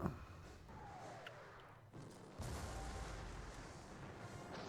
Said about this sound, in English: Counter battery fire.